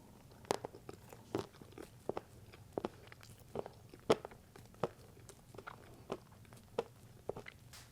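Crunchy bites and chewing of a unicorn cupcake with sweet chocolate flavour, close and intimate, in a quiet mukbang setting; about a dozen sharp crunches and bites come in irregular rhythm with soft mouth sounds between, no talking.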